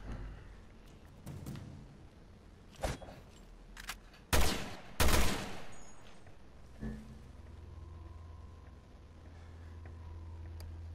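Several loud gunshots burst out in a short cluster in the video game Resident Evil Revelations 2, with a couple of fainter shots before and after over a steady low background hum.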